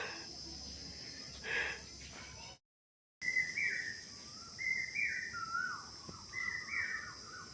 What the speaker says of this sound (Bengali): রাত তিনটে থেকে আমি দেখছি এই পাখিরা সব ডাকছে কোকিলও ডাকছে